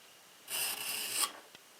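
A kitchen knife blade drawn through a Smith's knife sharpener, producing one steady rasping stroke lasting under a second, close and fairly loud, followed by a faint click.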